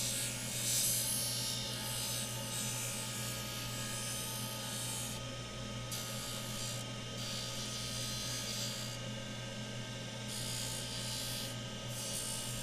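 A dental handpiece trims a retainer with a steady, continuous high-pitched whir and grinding buzz, dipping briefly at intervals as the tool lifts off the plastic, close and loud with no talking.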